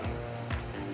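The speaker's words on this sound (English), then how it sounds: "as soon as our garlic starts to frying a little bit" Garlic sizzling as it begins to fry in a pot on the stove, a steady soft crackle throughout, fairly quiet, with no voices.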